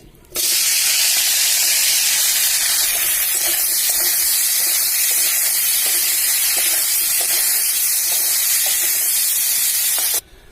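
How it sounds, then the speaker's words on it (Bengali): Potatoes fry in hot oil in a pan while lunch is cooked in a home kitchen, giving a loud, steady sizzling hiss that holds evenly for about ten seconds with no voices. "এরপর আলুটা ভেজে নেবো।"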